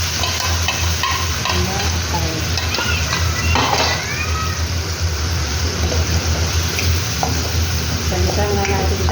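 Garlic and onion fry in a pan with a loud, continuous sizzle and frequent stirring scrapes, heard up close with some faint background voices.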